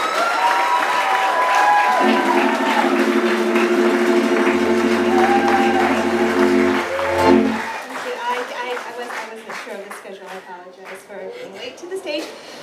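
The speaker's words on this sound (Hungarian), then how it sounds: "Egy tapsot Salának és Andreának!" Audience at a camp grand finale stage show breaks into applause and cheering, a loud sustained wash of clapping that fades toward the end, with a voice speaking over it and tonal hums mixed in.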